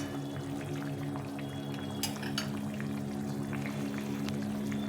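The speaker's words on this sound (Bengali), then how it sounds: "ঝোলটা ফুটে গেছে, এখন আমি এই মাছগুলো ভেজে রেখেছিলাম মাছগুলো দিয়ে দিলাম" Fried mola fish go into a boiling fish curry broth in a home kitchen, giving a steady loud bubbling simmer with a couple of brief splashy clatters partway through.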